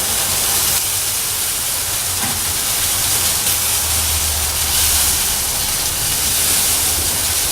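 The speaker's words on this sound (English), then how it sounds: "Hear that sizzle?" Loud, steady sizzling hiss of chicken thighs cooking on a smoker, continuous and close, with no talking.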